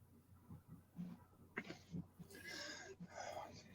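A cat meows several times in short, strained cries amid faint background noise, with a person speaking softly between them.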